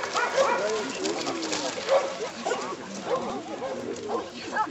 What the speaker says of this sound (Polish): Psówki bardzo ładnie kończą, właśnie pokazały współpracę.